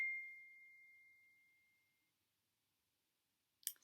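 A smartphone message notification gives a single clear ding that rings out and fades slowly over about two seconds in an otherwise quiet room, followed by a brief faint rustle.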